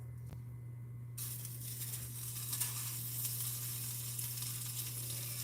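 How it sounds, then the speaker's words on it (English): Steady, hissing sizzle of Spam frying in a pan, continuous and fairly quiet, with a low hum underneath and no talking. "Oh, you hear that sizzle?"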